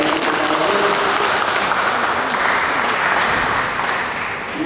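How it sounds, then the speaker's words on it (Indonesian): Audience applause at the opening ceremony of a Catholic church scripture quiz competition, a steady dense clapping from a large crowd that holds at full strength and fades slightly near the end. "tepuk tangan untuk kita semua."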